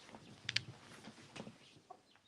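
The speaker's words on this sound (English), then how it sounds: "Let me go get these chickens" Soft chicken clucks and a couple of sharp squawks come in scattered bursts, faint and fairly close, from chickens loose indoors in a room, with no talking.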